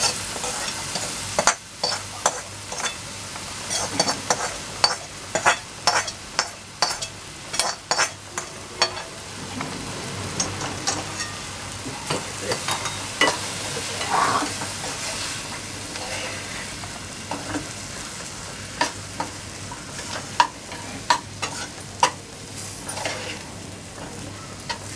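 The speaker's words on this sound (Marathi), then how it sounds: "आता जो रवा भाजून घेतला आता तो घालणार आहे त्याच्यात" Roasted semolina (rava) poured into a pan and stirred for upma, giving a steady soft sizzle with scraping spoon strokes and scattered clinks against the pan, close and moderately loud throughout, no talk.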